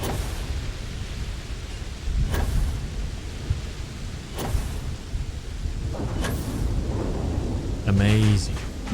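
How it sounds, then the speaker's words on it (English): A corrosive liquid thunderstorm in Starfield brings steady rain hiss and a dense low rumble, broken by several sharp thunder cracks spaced a couple of seconds apart, with a brief tonal game effect near the end. "a corrosive liquid thunderstorm"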